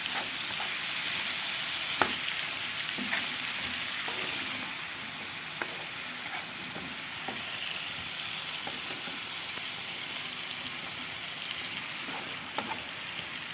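Grated tomatoes hit hot spices in a pan and fry with a loud, dense, hissing sizzle that holds steady throughout, dotted with small pops and light stirring clicks, no voices.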